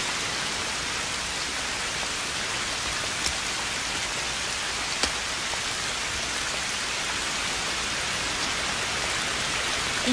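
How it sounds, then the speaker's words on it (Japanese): Heavy rain pours down steadily, a dense, loud, unbroken hiss of water with a couple of faint knocks and no voices over it. "この雨じゃ傘さしても意味ねえか。"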